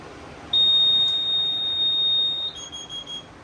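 Fire alarm system sounding during a carbon monoxide test: after a brief quiet moment a loud, piercing continuous electronic tone starts, then shifts into a pulsing beep pattern near the end.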